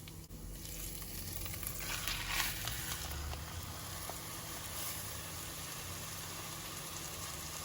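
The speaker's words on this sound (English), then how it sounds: "We're gonna sear this on both sides." A pot roast sears in a hot pot, giving a steady, low sizzle and crackle that keeps going without a break, with faint clinks here and there.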